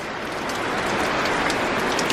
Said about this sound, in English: Oh, it's like biblical rain.